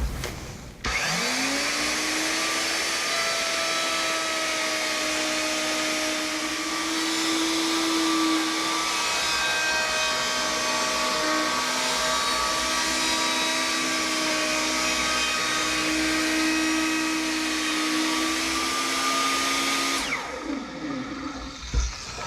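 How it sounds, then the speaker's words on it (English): A handheld router fitted with a 3/8 inch rabbeting bit cuts a rabbet along wood, a loud steady high-pitched whine sustained for about twenty seconds before spinning down, with no talk. "to do that I've installed a 3/8 inch rabbeting bit in my router. I'm going to do this in a couple of passes."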